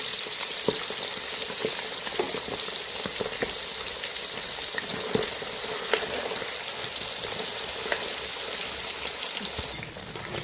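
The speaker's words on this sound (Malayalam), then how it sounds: "എണ്ണയെല്ലാം നല്ലതായിട്ട് തിളച്ചിട്ടുണ്ട്. ബീഫ് ഇടുവാണ്." Beef pieces sizzle and crackle steadily in hot oil, a dense, continuous frying hiss with scattered sharp pops, close and loud throughout, with no talking.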